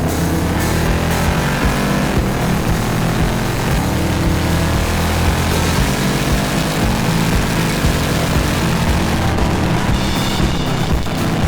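Ford Mustang GT sixth-generation V8 accelerating hard through paddle-shifted gears of its torque converter automatic, a loud continuous engine roar heard from inside with smooth rising pitch and seamless shifts, no talking.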